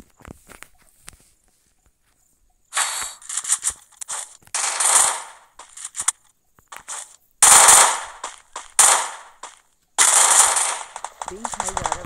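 Rapid bursts of automatic gunfire in a shooting video game, several sharp volleys separated by short gaps of near silence, loud and close.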